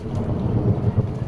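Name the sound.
rain with thunder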